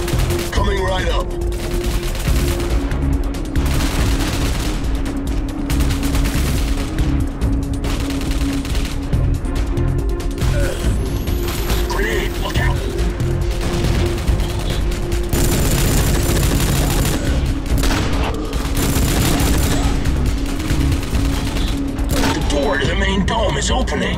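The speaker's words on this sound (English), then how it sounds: "Rogue's assault rifle and its underslugs have good audio-visual feedback." Assault rifle gunfire rings out in the PC video game Rogue Trooper. Repeated loud bursts and single cracks mix with booms from a firefight, dense and close across the whole stretch.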